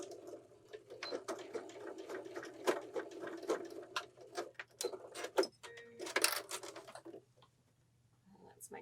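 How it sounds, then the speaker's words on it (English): A sewing machine stitches a seam along a pillow with piping, running in quick rapid bursts of needle clatter that stop and start, with a soft voice talking in between and a short pause near the end. "I'm just going to stitch right along here"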